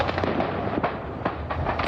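Fireworks explode during a fire at a fireworks factory near Perth, a rapid dense barrage of cracks and pops over a continuous roar, heard from a distance in news footage.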